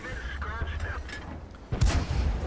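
Tank cannon fire in World of Tanks, a tier 6 American T37 light tank battle: heavy booming shots with mechanical creaks, heard beneath a voice talking over the game.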